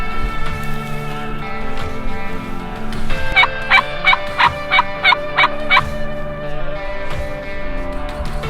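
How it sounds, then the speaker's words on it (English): A wild turkey gobbler gobbles in a rapid burst of about eight pulses, loud and close, set against steady outdoor background noise during a hunt with hens nearby. "Got a gobbler out here with some hens"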